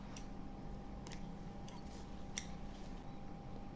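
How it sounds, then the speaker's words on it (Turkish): Scissors snip paper yarn during crochet work on a bag, a few faint, sharp cuts spaced irregularly over a quiet low background hum. "İpi yeteri kadar bırakıp kesiyorum."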